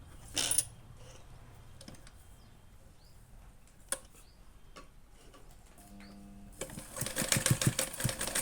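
A sewing machine stitches a fabric tassel: soft ticks and clicks sound at first, then a short, fast, rhythmic run of stitching fills the last couple of seconds, close by and with no voices.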